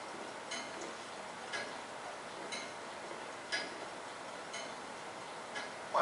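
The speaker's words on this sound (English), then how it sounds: "he timed the crime so the sound of the clock would cover up his footsteps" A clock ticks in the video game Heavy Rain: faint, steady single ticks about once per second over a quiet room-tone hiss, with no one speaking.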